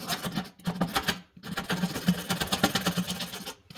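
A blade scraping across the glass top of an induction cooktop, a close, steady rasping rub in repeated strokes with a brief pause, no talk.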